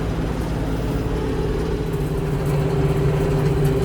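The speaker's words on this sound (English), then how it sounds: "whenever I mow with the tractor in the fields" A tractor engine runs steadily while mowing a field, a low, droning hum with a constant tonal throb, close and unchanging, rising slightly toward the end with no voices.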